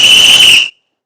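A single sustained, shrill whistle blast, loud and steady for most of a second before cutting off abruptly into silence, with no speech over it.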